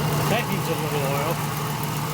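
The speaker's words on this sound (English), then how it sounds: "You can hear the motor running." A car engine idles under the open hood with a steady low hum, while a voice talks over it.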